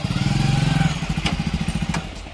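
A motorbike engine chugs close by in a rapid, even putter, loud at first and easing slightly as it settles, with a couple of sharp knocks partway through and no talk.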